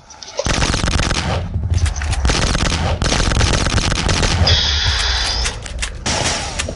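Rapid, dense gunfire from a shotgun and other weapons in the Box Head 2 video game, loud and nearly continuous with short gaps, layered with bursts and a brief high whine near the end.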